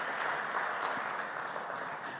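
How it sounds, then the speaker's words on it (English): An audience at a corporate sustainability report event applauds in a dense, even wash of clapping that holds steady for a couple of seconds before easing slightly. "A round of applause, please, to mark the start of this day."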